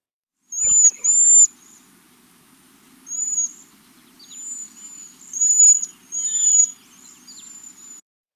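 High-pitched songbird notes, likely a warbler, sound in short, thin bursts separated by pauses, clear and close against a quiet background.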